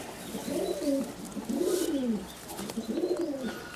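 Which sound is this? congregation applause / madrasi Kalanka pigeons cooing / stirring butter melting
madrasi Kalanka pigeons cooing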